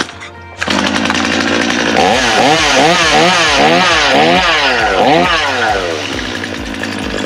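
A Stihl chainsaw engine roars to life after starting, running loud and close with repeated revving that rises and falls in rhythm, while someone briefly speaks near the start.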